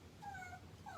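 A dog whimpers softly indoors, giving a couple of faint, high, wavering whines over a low background hum.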